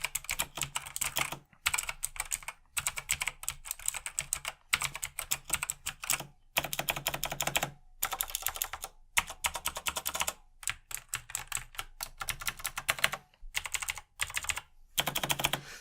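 Typing on a Razer BlackWidow Chroma V2 keyboard with Razer Green clicky switches makes a rapid, crisp, close run of key clicks in bursts with short pauses, some keys sounding heavier than others.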